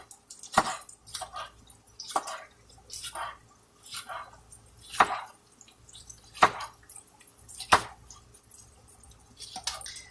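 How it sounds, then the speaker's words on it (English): Knife chopping rinsed ingredients for vegan meatballs and patties, heard as a series of sharp, separate thuds and taps on a board at an uneven rhythm, close and fairly loud, with faint wet handling sounds between strokes and no talk. "And I'm going to chop them."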